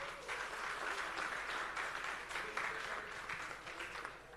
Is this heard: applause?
yes